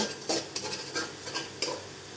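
Onions frying with assorted spices in a pan while being stirred, giving a soft continuous sizzle broken by repeated scraping strokes of a utensil against the pan, close up.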